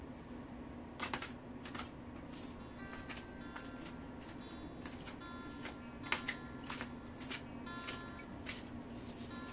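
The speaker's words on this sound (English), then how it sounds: "I'm going to be shuffling the deck and we'll be drawing the 3 cards" Tarot cards being shuffled by hand during a Disney Villains tarot reading, a soft papery riffling broken by repeated crisp flicking bursts over a faint steady hum, fairly close and quiet with no talking.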